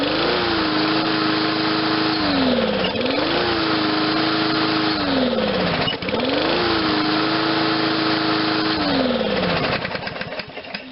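A small MTD 22-inch walk-behind lawn mower engine runs steadily and loud, its pitch dipping and then climbing back three times as the throttle is worked, with the governor pulling the speed back up each time.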